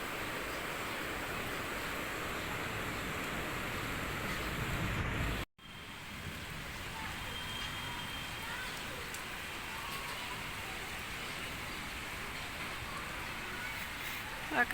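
Rain falling outdoors during hot weather gives a steady broadband hiss. It cuts out briefly partway through, then resumes at a similar level.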